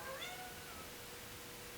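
A shop cat gives a short, rising meow at the start, faint against a quiet workshop background, followed by low steady room noise.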